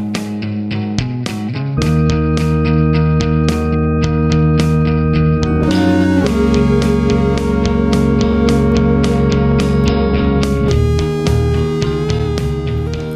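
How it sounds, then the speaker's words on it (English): A dense, loud demo mix with basic programmed drums, distorted guitars from an Epiphone Les Paul with P90 pickups, bass and a couple of small synth parts. It plays steadily with thick sustained chords over a driving beat. "The idea sounds like this. It's just got basic drum programming and just guitars,"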